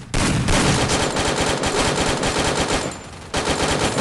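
Rapid automatic gunfire from a video game, loud and sustained bursts with a brief dip near the end before firing resumes, no talking.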